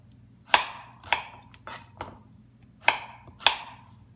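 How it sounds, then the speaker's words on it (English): A knife slices a sweet potato into 1-inch pieces on a cutting board, giving six crisp, close, evenly spaced chops over a quiet background hum. No one speaks. "So I'm just going to slice it like that."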